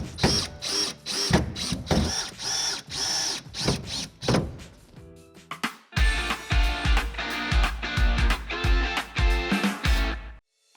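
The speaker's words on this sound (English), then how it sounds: "with the drill I'm going to be using, I'm going to have an extended drill bit holder on it" A power drill with an extended bit holder drives screws to secure a Delta Classic 500 shower wall panel, with repeated bursts of whirring and short pauses between, close and loud, with no talking.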